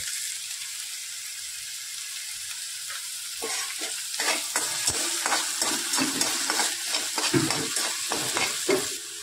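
Tomatoes and onions fry in a pan while being stirred, a steady sizzle beneath repeated close scraping strokes that grow busier and louder partway through; no one speaks.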